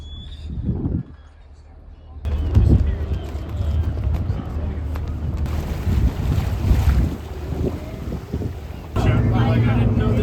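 Wind buffets the microphone over a steady low rumble of a boat underway, with people talking intermittently throughout.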